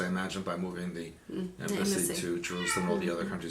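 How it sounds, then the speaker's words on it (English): A Bengal cat meows in the background indoors, its cries faint and intermittent beneath continuous close male speech. "I apologize for the cat noises in the background."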